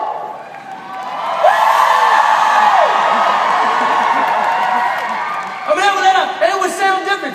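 A man demonstrates a Confederate rebel yell, voicing a loud, sustained whooping cry that rises and warbles for several seconds, with further shorter whoops and shouts at the end; a human voice imitates the historic battle yell.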